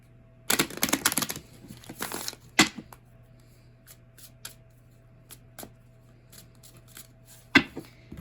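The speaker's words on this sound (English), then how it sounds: "Give them a good shuffle." Brisk riffling and shuffling of tarot cards in a few short bursts, followed by quieter handling with occasional soft taps and slaps.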